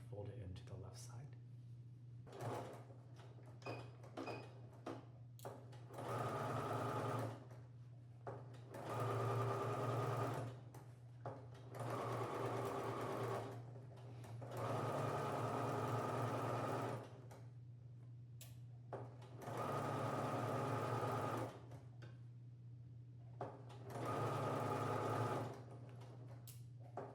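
Sewing machine understitching a trimmed seam allowance on a fly facing, running in several sustained bursts of a few seconds each with pauses between, fairly quiet, with a person talking in the gaps.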